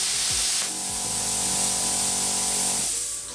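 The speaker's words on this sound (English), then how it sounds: "Here the compressor start up straight away." A plasma cutter's built-in air compressor starting up: a steady, loud, close hiss of rushing air over a humming, whining motor tone that runs throughout and eases near the end.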